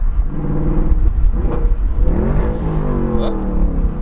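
A Chevrolet Camaro SS with an H-pipe exhaust revs and drops through a downshift, its deep engine note rising and falling in a steady, loud rumble close by.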